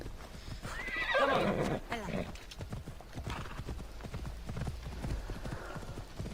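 Horse in the game Assassin's Creed Odyssey gives a loud neigh and whinny, followed by steady clip-clop hoofbeats, with someone talking over much of it.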